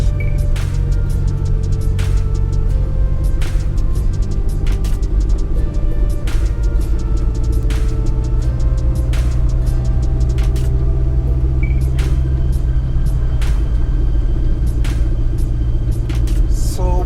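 A car drives the roads of Mandeville, Jamaica, its engine and tyres a constant low rumble heard from inside, with faint intermittent clicks and knocks over the steady road noise.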